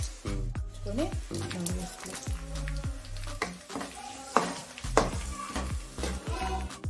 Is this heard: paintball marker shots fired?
no